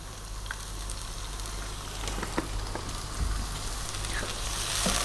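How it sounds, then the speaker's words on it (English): Olive oil sizzling and frying in a pan for Ethiopian lamb stew (sega alicha wot), a steady broadband crackle with scattered pops, close and fairly loud, continuous throughout with no talking. "I'm going to add some oil now. I'm going to add some olive oil."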